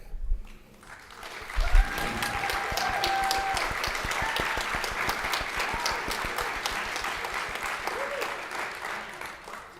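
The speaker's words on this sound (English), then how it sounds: "could you please stand and receive a round of applause and a thank you for all your hard work" An audience at a Memorial Union student and staff awards event applauds graduating student employees, starting after a brief pause and swelling into sustained, even clapping with a few scattered whoops and faint voices.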